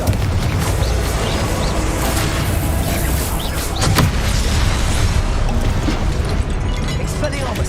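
Repeated Confringo blasting-spell explosions in the Hogwarts Legacy video game, dense booming bursts over a constant loud game mix, with spell incantations being called out throughout.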